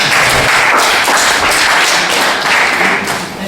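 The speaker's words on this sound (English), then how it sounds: "This, once again, a round of applause for." Audience applause at a youth peace dialogue event: a dense, steady wash of many hands clapping, loud and close, lasting throughout and easing slightly toward the end.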